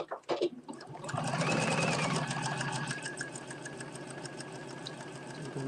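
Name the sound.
sewing machine sewing a narrow zigzag stitch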